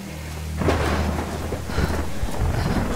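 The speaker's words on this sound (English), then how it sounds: "Take shelter from the storm." A thunderstorm in the video game Tomb Raider Definitive Edition brings steady rain hiss with loud rolls of thunder rumbling through, the storm filling the scene continuously.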